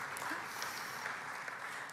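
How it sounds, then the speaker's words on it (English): Audience applause at a municipal association (RMA) convention during a premier's speech, a steady wash of clapping held at moderate level for the whole stretch with no voice over it. "you can clap for that"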